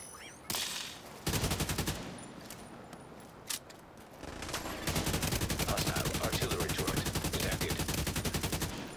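An assault turret fires in a PvP match of The Division 2, loud rapid bursts of automatic gunfire that break off briefly and then turn into a long, steady stream of shots near the player.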